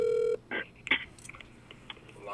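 A telephone call connects on a radio call-in line: a steady dial-tone beep opens, followed by a few faint clicks and brief electronic blips over quiet line noise.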